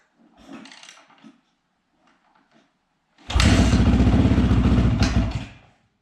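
A Honda CRF450 four-stroke motorcycle engine fires up for the first time in 16 years, bursting into a loud, rough, close running roar for about two seconds before cutting out, after a few quiet scuffs.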